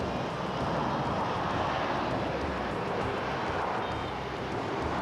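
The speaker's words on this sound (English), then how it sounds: "Unlike other jets that need a long runway to take off, the Harrier can take off vertically, straight up, without a runway" Harrier jump jet engine roaring steadily, a loud broadband jet rush with deep rumble that holds constant throughout, no voices.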